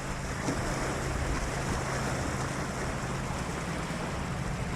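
Steady broadband wash of the Bow River in downtown Calgary, flowing past a fishing spot, heard close and continuous with gusty wind noise on the microphone and no voices.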